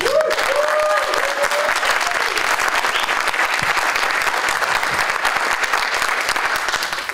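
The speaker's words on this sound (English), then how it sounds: "so give him a round of applause" Loud, steady applause from a crowd, dense clapping that fills the whole stretch without letting up.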